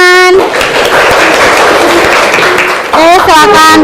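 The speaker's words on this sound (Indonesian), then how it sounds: "Yeay, tepuk tangan." Classroom audience clapping together, a dense burst of hand claps lasting a few seconds, with voices calling out just before it starts and again as it fades.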